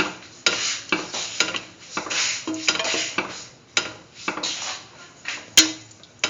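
A spoon scrapes and clinks against a pot as a peach, coconut milk and vermicelli mixture is stirred, with repeated close, uneven strokes and a few sharper knocks against the metal.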